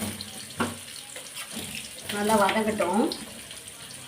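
Cooking vessels are washed by hand under a running tap in a home kitchen. The water streams steadily, then swells louder and splashier midway, and a voice speaks briefly over it.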